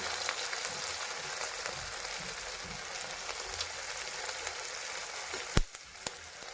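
Cabbage veg lollipops deep-frying in hot oil give a steady, dense sizzle that runs unbroken throughout, with one sharp clack near the end. No voices.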